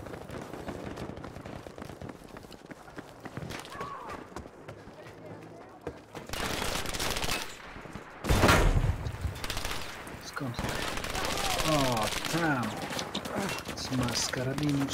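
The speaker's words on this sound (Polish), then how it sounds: "Trzy strzały ze STG w ryj i koniec" StG 44 rifle bursts crackle in a chaotic Battlefield V multiplayer firefight, several loud volleys layered with distant gunfire and battlefield noise, under a player talking.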